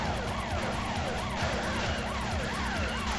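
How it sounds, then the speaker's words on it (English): Wheels spinning and tyres skidding in the car-combat game Carmageddon, a steady engine roar with repeated rising and falling squeals layered over it, alongside a wailing siren-like tone, all at a moderate, constant level. "Spin those wheels harder."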